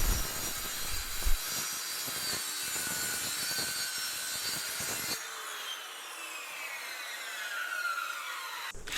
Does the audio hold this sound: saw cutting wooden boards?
yes